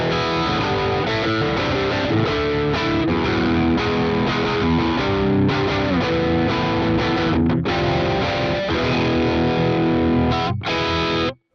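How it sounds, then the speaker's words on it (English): Electric guitar through the Plini X plugin with its drive pedal in overdrive mode and all controls at noon, a dense, distorted riff played loudly and continuously, with brief gaps near the end before cutting off. "And now in overdrive mode and everything else at noon, here's how the drive pedal sounds."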